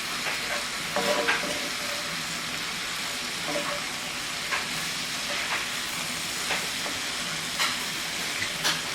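Mushrooms fry in a Cajun creamy pasta sauce with shrimp, a steady sizzle broken by occasional scrapes and knocks of a spoon as it is stirred in the pan.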